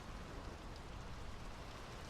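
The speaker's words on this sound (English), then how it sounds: "The rain's picking up." Steady, dense rain falls in the video game Draugen, an even wash of hiss and patter that carries on without a break.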